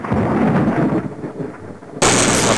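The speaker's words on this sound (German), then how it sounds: "Jetzt regnet es hier, und so muss es auch sein." Rain and thunder in the Discworld adventure game: a deep, loud rumble of thunder rolling over steady rain, then a sudden bright hiss of downpour taking over.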